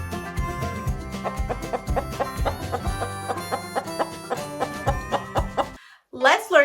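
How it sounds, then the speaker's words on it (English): A farmyard chicken clucks in a short burst at the end, after a stretch of bouncy children's music. "Chicken."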